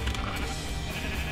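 Sheep bleating in the Minecraft video game, a steady game sound with no talk.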